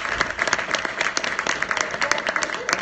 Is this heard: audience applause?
yes